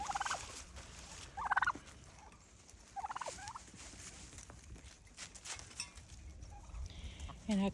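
Poultry calling outdoors on a sloping hillside farm, several short, bright clucking bursts spaced a second or so apart, moderately distant, over a low outdoor background.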